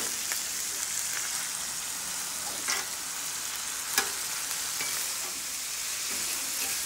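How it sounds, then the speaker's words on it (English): Ground beef browns in a pan with a steady, dense close-up sizzle, broken by a couple of brief spatula scrapes and pops, with no talking. "so browning this ground beef up"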